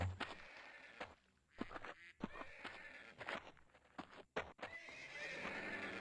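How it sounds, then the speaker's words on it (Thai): A horse in the Survival Craft video game whinnies loudly several times, with clip-clopping hooves and short bursts between calls, and no voices present. "มีม้าตรงนี้"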